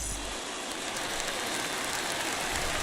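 Rain falls as a steady, dense hiss in the baseball video game MLB The Show 21, with a Boston Red Sox game underway. The rain is continuous and fairly loud, with no talk over it.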